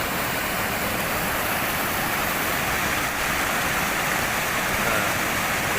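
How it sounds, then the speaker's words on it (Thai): A waterfall in Attapeu Province, Laos, roars as a constant, dense wash of falling water, steady and full with no pauses. "น้ำตก"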